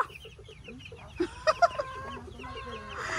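Rhode Island chickens about 45 days old clucking in a backyard flock, with several short, close calls in a quick cluster over a low background murmur.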